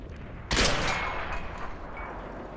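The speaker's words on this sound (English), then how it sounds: "Oh, there's artillery." Tank artillery fires in World of Tanks with a single sudden loud blast that rolls into a fading rumbling tail over a quiet background.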